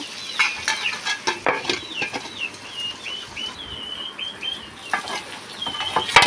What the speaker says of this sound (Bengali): খুশি অয়েলের মধ্যে সব মশলার সাথে কাঁকড়াগুলো ভালোভাবে ভেজে নিব লাল লাল হওয়া পর্যন্ত